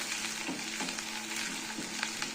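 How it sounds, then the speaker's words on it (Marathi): Chopped garlic frying in hot oil in a pan for a Khandeshi eggplant and potato bhaji, a steady loud sizzle with a few stirring scrapes and no talk. "आता हे लसूण टाकून घेते मी सगळं, मी चिरून घेतलेली।"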